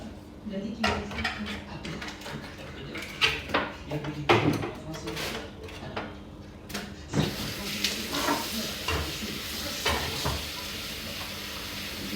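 Vegetables sautéing in a home kitchen pan, with pots, utensils and clattering dishes knocking and scraping repeatedly over a steady background hiss, while a person talks intermittently.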